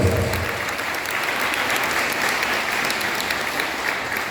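An audience at a council of elders gathering in Caxhuacan, Puebla, applauds loudly and steadily for several seconds without letting up, a dense wash of clapping with no voices over it.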